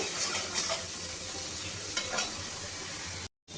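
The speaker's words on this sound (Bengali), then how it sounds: "এবার আমি ভালো করে মশলাটাকে কষিয়ে নেব।" Spice paste with ginger fries in a pan while being stirred, a dense continuous sizzle with soft scraping strokes, close and fairly loud, cutting off briefly near the end.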